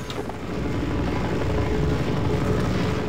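A helicopter in the video game Half-Life: Source hovers nearby, a steady, loud rotor drone with a low rumbling thrum that swells slightly after the first half-second and then holds.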